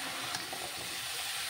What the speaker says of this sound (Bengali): এই সব কিছু এখন তেলের ওপরে কিন্তু হালকা একটু ভেজে নিতে হবে।